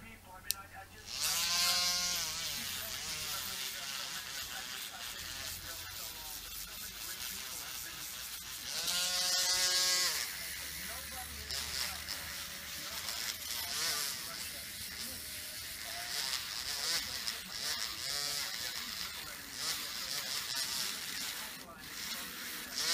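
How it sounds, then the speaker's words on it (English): A wire wheel on a mini Dremel cleans a die-cast Tomica Winnebago toy, a close, whining high-speed buzz that rises and falls in bursts, with talk around it. "I'll just clean it up with a wire wheel on my mini Dremel"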